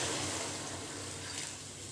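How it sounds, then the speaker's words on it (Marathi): Hot boiled water poured from a jug into a cooking pot of stuffed brinjal curry, a steady broadband gushing and splashing that fills the whole two seconds at an even, fairly loud level. "एका साईडला आपण पाणी उकळायला ठेवलेलं आहे, ते पाणी आपण यामध्ये ॲड करू शकतो."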